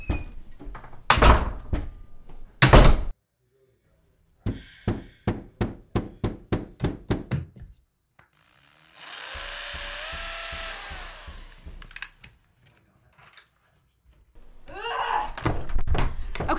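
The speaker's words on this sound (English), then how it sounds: "Is that a hammer?" Repeated hammer-like thunks and bangs from a neighbouring room, coming in loud irregular bursts and then a quick run of about eight evenly spaced knocks, with pauses and a whirring stretch between.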